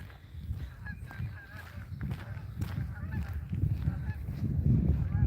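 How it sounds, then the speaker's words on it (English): Ducks quack and honk faintly in the distance over a low outdoor rumble, calling on and off throughout. "I hear the ducks."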